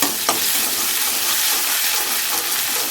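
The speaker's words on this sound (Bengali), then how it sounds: "এখন তেলের মধ্যে ভেজে নিচ্ছি।" Grated ginger paste fries in hot oil with black cumin and slit green chillies, a steady close sizzle with bubbling hiss and a brief scrape of stirring near the start.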